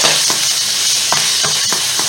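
Carrots are stirred in a cooking pot with onion, a steady sizzling hiss broken by several soft spoon scrapes at an uneven pace, loud and close.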